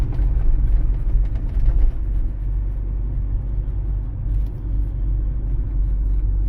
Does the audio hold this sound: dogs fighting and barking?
no